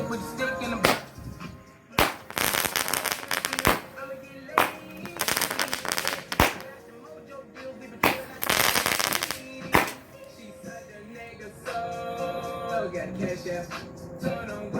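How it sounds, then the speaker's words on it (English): Rapid bursts of sharp cracks and crackling from an Alien Fireworks Festival Ball firework, with loud pops recurring every second or two among dense crackle, while people talk in the background. "Festival Ball by Alien Fireworks."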